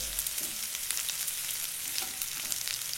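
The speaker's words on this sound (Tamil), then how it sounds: "வெங்காயம் கொஞ்சம் பொன்னிறமா ஆகிற வரைக்கும் வதக்கணுங்க" Chopped onions with salt fry in hot oil for Tanjore chicken, giving a constant close hiss and crackle with light stirring and no voices.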